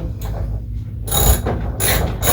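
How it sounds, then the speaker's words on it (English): Ratchet tightening the screws on an IsoClean pre-filter and HEPA filter housing, a steady run of close mechanical clicking with brief louder bursts, heard alone. "use a ratchet or a wrench to tighten the screws the rest of the way"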